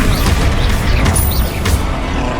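A Confringo fire spell blasts in Hogwarts Legacy during a duel: a loud, dense booming burst with crackling impact noise filling the short stretch, no voices over it.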